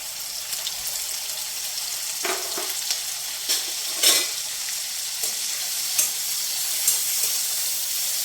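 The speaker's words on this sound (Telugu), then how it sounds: "పసుపు వేసుకొని ఎండు రొయ్యలు వేయించుకుందామండి." Dried prawns fry in a pan with turmeric, giving a continuous bright sizzle with scattered stirring scrapes and small pops, steady and close with no one speaking.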